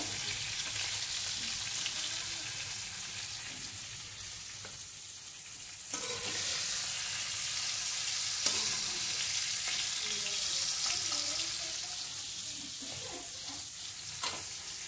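Cauliflower florets frying in a pan, a steady close sizzle running throughout with occasional stirring clatter and brief spatters.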